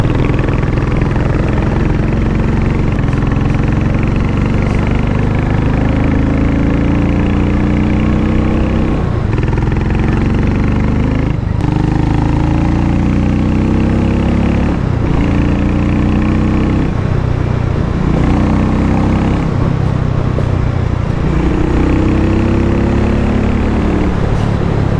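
Harley-Davidson X440 motorcycle engine idling through its exhaust outdoors, a steady low rumble with occasional revving swells, loud and continuous, no talking.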